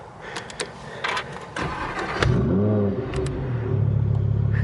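A Lamborghini Huracan Performante Spyder engine cranks and catches at close range, then settles into a loud, steady idle after a brief rev.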